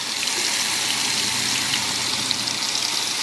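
Water gushes steadily out of the outlets of a Traxxas M41 RC boat, a continuous close hiss with no pauses and no talk.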